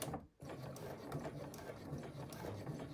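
A sewing machine stitches across a crossbody bag strap beside a rectangle ring, producing a fairly quiet, rapid rhythmic clatter of the needle that runs steadily with a brief pause near the start.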